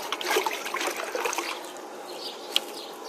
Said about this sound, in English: I'm putting this water on him and it feels cool